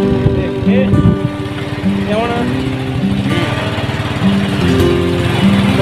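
Royal Enfield-style motorcycle engine while riding in Pakistan: a close, steady buzzing drone with rising and falling revs, with a voice talking over it now and then.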